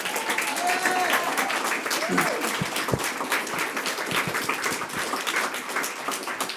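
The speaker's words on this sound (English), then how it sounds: "I think everybody should give her a round of applause" A room of guests at a policy reception gives a sustained round of applause, a steady patter of many hands with murmured voices faintly underneath.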